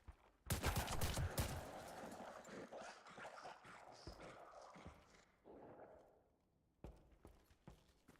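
Gunfire from a pump-action gun in the video game Active Matter, a dense burst of rapid, loud shots early on, then scattered sharper cracks and clatter fading in and out.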